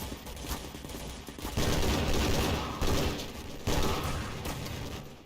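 OICW assault rifle firing in the Half-Life 2 beta mod Coterminus, dense bursts of loud, close gunfire stacked into a continuous roaring fusillade with several sharp swells.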